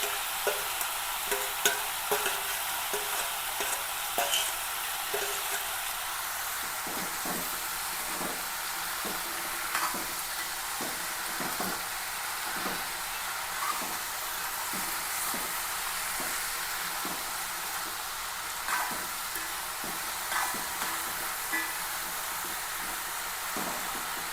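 Long beans are stirred and mixed into kanambu fish curry in a pan, with a constant close sizzling hiss broken by frequent small scrapes and taps of the spoon.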